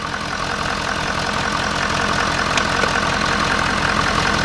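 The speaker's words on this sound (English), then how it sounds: "you can actually hear how the truck actually idles, like how it sounds on the exhaust" A truck engine idling with a newly fitted intake, a loud, steady, close rumble with even low pulsing and no change in pitch, no voices.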